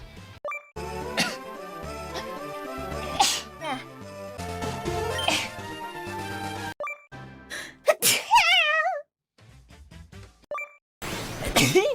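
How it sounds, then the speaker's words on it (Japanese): A sharp sneeze bursts out amid busy game music and sound effects, followed by quick apologetic voices and jingling game tones. "くしゃみ。"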